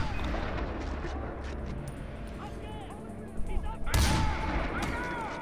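Heavy AMR anti-materiel rifle shots in a first-person shooter game, loud booming blasts with rolling echoes over continuous battlefield ambience, one sharp close shot standing out near the end.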